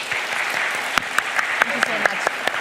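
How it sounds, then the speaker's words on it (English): Sparse applause from a small audience after a Berlinale Talents film talk, with a few distinct nearby claps over a soft background of clapping and faint murmuring. "Please give me a big applause for Edwin."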